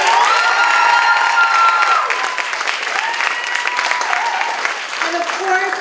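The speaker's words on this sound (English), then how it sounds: "Let's have another round of applause for our amazing" An audience at a Kaplen JCC staging of The Music Man breaks into sustained, loud applause mixed with cheers and children's shouts, a dense crowd noise that fades slightly toward the end while a voice speaks over it.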